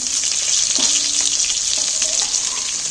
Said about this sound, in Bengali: মাছগুলো আমার ভালো করে ভেজে নিয়েছি এইবার তুলে নেব